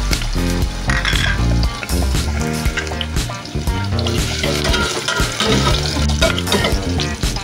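Garlic sautés in a little oil for pork adobo, a close crackling sizzle with stirring clatter, set under a loud, busy musical backing that runs throughout.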